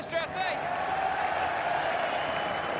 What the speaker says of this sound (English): Crowd roaring with every single here at the Adelaide Oval